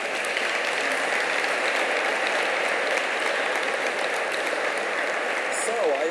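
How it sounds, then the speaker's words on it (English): Steady applause from an audience at a conference fills the whole stretch at an even level, with a brief voice emerging near the end. "Big applause."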